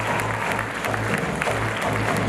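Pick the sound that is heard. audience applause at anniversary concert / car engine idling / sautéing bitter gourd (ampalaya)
audience applause at anniversary concert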